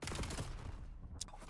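Gunfire in a competitive video game match, several quick shots in a rapid cluster at the start, then fading into quieter game ambience with a single short sharp sound near the end.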